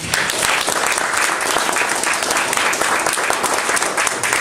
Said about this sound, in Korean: 여러분 감사의 박수를 부탁드리겠습니다